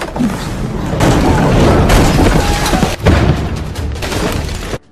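Japanese troops firing guns at a girl named Shizuko: dense, loud, continuous blasting and crashing noise with a brief break near the middle, ending abruptly.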